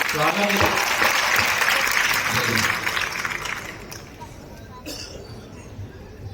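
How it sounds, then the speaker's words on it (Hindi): A Hindi poetry gathering in Kannauj applauds with full, loud clapping for about three seconds, then the sound thins and fades to a quieter murmur of scattered claps and room noise. "आप लोग सुनना चाहते हो तो एक बार तालियां बजा दीजिए।"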